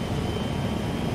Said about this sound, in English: This helicopter's so loud.